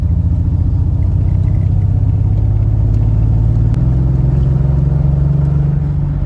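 A Triumph TR6 sports car drives along with a loud, steady engine rumble and a deep exhaust note, heard from on board, with no talking.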